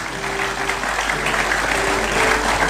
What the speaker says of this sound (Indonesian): Boleh tepuk tangan dong buat Ibu Dokter.